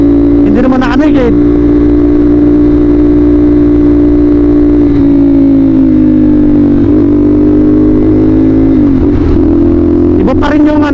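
A superbike sports motorcycle cruises on a beach-town ride, its engine droning loud and steady up close with short speech-like bursts at the start and end, where a rider talks over it.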